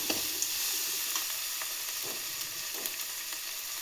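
Salt being stirred into oil in a frying pan for a purple cabbage palya, a steady soft sizzle with light scraping strokes of the spoon close by, no voices.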